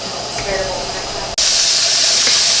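Steam vents from a pressure canner during home canning of enchilada sauce, a steady loud hiss that abruptly surges to a stronger, brighter rush halfway through, with a voice nearby.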